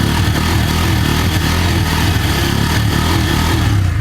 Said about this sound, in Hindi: गाड़ी को स्टार्ट कर लिया है N160 का साउंड।